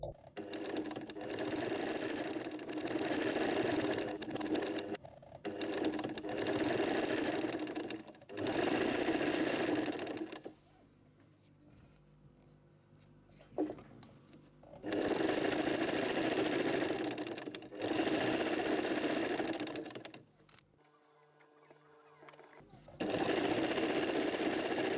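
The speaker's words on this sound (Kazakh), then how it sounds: "Енді матамызбен бірдей ұстап тігіп шығамыз." A sewing machine stitches a plain zipper into fabric in loud, steady bursts of running, broken by pauses with quieter handling and faint talk before the motor starts again.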